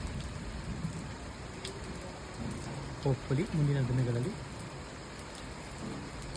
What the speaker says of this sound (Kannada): ವರ್ಷದ ಮೊದಲ ಮಳೆ ನಮ್ಮ ಜಮೀನಿನ ಹತ್ರ ಭರಣಿ ಮಳೆ ತೆಳ್ಳಗೆ ಬೀಳ್ತಿದೆ